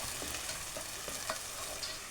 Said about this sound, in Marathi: मिक्सरमध्ये वाटून घेतलेले टोमॅटो आणि बेडगी मिरचीचं वाटण मी ते हळते आहे